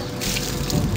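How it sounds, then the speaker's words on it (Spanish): Water is poured over a concrete bench, a brief splashing gush with a wet spattering texture, close and moderately loud. "Primero que nada vamos a echarle una poca de agua."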